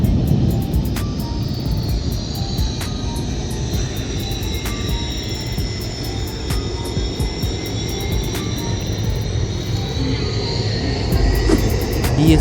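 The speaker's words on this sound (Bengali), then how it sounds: "এদিকে আপনার বিমান বাহিনীর ট্রেনিং চলতেছে এয়ারক্রাফ্টগুলো এখন উঠতেছে" Air force training aircraft taking off, with a steady engine drone and a slowly sweeping whine running through the whole stretch, fairly loud and continuous with faint ticking clicks above.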